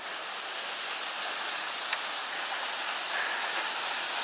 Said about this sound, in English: Small waterfall up here.